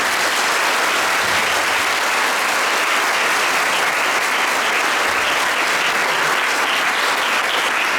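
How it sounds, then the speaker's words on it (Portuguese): A congregation at a Mass for a priest's installation applauds loudly and continuously, a dense, close wash of clapping hands that holds at full strength from start to finish. "Quero acolhê-los a todos com a salva de palmas bem forte."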